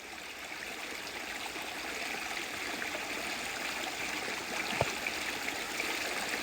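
Stream of water along the Appalachian Trail, a steady close rush and trickle of flowing water with a faint splash near the end, no voices.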